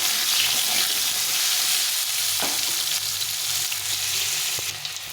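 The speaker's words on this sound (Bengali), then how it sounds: "আলুটা একটু ভেজে নিতে হবে।" Cut potatoes frying in hot oil in a pan for a Bengali fish curry, a loud steady close sizzle with faint scraping of stirring, no voices.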